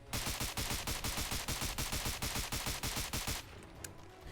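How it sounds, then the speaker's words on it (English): Rapid burst of gunfire from the AnotherOne 6P62 rifle in Fallout 4, loud evenly spaced shots in a fast steady rhythm for about three seconds, then cutting off to a quieter tail. "there was a 4 or 5 shot burst in there where I didn't get any damage"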